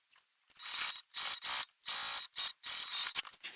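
Short bursts of a sewing machine stitching the seam of a crossbody pouch, about six quick runs of rapid needle chatter separated by brief pauses, close and clear.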